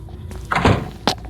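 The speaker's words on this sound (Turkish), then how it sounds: "O kapı kapanma sesleri var ya" A heavy door thuds shut in a horror video game, a single loud low slam followed by a short sharp knock, heard on its own.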